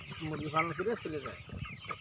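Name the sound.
Sonali breed chickens clucking on a poultry farm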